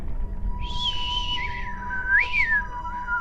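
A strange, wavering whistle drifts from somewhere above in a freezing room without radiators, rising and falling in pitch in two long sweeps over a steady low hum, with no voices.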